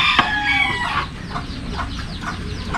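A frightened chicken clucks near a snakehead fish, opening with a louder, drawn-out call and then giving a series of short, evenly spaced clucks that stay close and clear.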